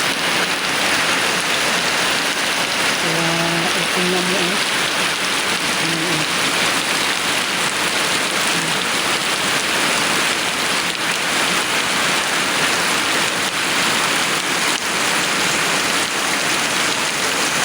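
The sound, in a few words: heavy rain during a typhoon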